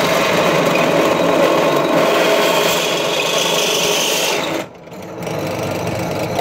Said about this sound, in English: find a drill bit that's this size to drill out this washer